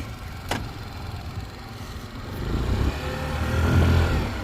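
The engine of a stuck vehicle revs, rising from a low rumble to a louder, straining roar near the end, with a brief sharp squeak early on.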